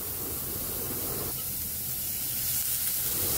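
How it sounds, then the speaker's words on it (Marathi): Onion sautéing in a dry pan without oil, a steady broadband hiss and sizzle that continues evenly and fairly close, with no talking. "छान कांदा बिना तेलावरतीच आपल्याला असं परतून घ्यायचं, थोडंसं लालसर होईपर्यंत कांदा चांगला परतून घ्यायचा"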